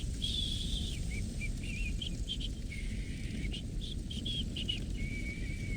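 A character in the video game Assassin's Creed Valhalla whistles a wavering tune of short phrases and held notes, moderately close and clear above a steady low ambient rumble, with no talking.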